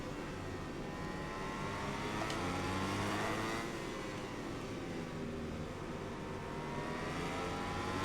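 Racing motorbikes in MotoGP 21 during a career-mode race, the engines droning steadily and loudly throughout with a continuous high-revving whine and shifting pitch as the bikes run close together through the corners.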